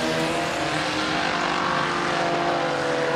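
An IMCA sport compact race car roars past on the dirt oval at RPM Speedway during a heat race, its engine note loud and sustained with a steady revving drone and no talk over it.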